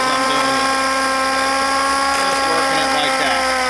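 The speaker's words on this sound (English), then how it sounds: "Actually, that's a Craftsman. A pneumatic orbital sander." Craftsman pneumatic orbital sander run at low speed on a rusty rockshaft housing, a loud steady high whine with droning tones throughout, a voice talking over it.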